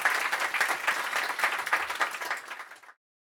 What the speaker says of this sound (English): A round of applause for Fredrik.